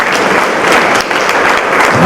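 An audience at a cultural centre celebration in Saint-Claude claps loudly, a dense, sustained burst of applause that stays close and even throughout.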